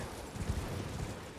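Horse hooves clip-clopping in Elden Ring, a few soft, muffled thuds of a riderless horse set free and wandering, faint and close with no talk over them.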